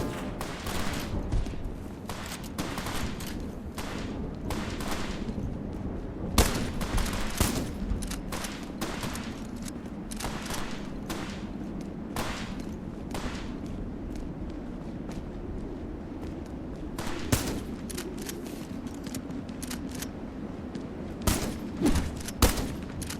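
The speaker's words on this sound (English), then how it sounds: "Me shooting the fucking cheetah men with a shotgun" Repeated shotgun blasts from a video game as the player fires on cheetah men, sharp bursts spaced irregularly over a steady game background, some closer together in quick pairs.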